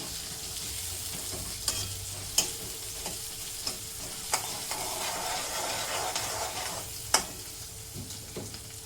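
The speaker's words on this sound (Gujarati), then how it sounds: "તેને થોડું હલાવાય બરોબર. થોડા ટામેટાં સોફ્ટ થાય તો સુધી" Chopped tomatoes being stirred in a hot pan for a black-eyed pea curry, with a continuous sizzle broken by sharp, irregular clicks and scrapes from the spoon, close by and with no talking.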